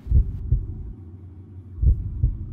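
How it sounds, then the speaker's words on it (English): A heavy thumping heartbeat from the horror game Dungeon Nightmares 2 pulses in two paired lub-dub beats, low and booming, with a faint hum between them. "My heartbeat's just going up."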